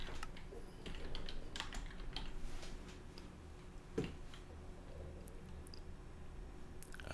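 Quiet, rapid clicking of keys typed on a computer keyboard, a steady patter of small ticks that runs for several seconds with one sharper tap partway through.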